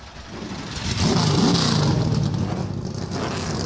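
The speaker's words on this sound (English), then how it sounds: "Engines come to life on the pit lane." Race car engines start and rev in the pit lane at the Chicago street race, a dense, loud roar that swells after the first second and holds as a sustained rumbling drone.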